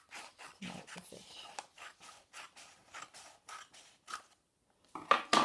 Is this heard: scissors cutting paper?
yes